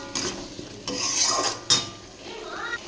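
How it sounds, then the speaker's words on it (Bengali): Spice masala being stirred and fried in a pan with onion for a cauliflower and egg curry, with scraping spoon-on-pan clatter and soft sizzling in irregular close strokes, no talk. "ভালো করে মশলাটা কষিয়ে নেব।"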